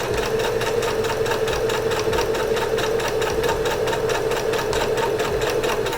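A sewing machine stitches binding onto fabric for an upcycled summer garment, running in a steady, fast, continuous mechanical rattle from start to finish, close and fairly loud with no talking.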